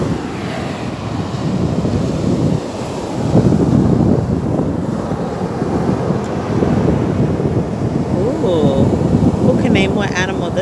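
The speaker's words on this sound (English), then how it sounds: "I hope you guys can hear me because it is pretty windy out here." Strong wind buffeting the microphone at a beach, with a heavy roaring rush of surf underneath, loud and continuous, while a person talks over it.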